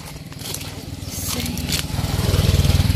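Motorcycle engine rising in level as it approaches along a gravel road in the countryside, a steady pulsing putter growing louder and nearer toward the end, with a faint voice briefly in the background.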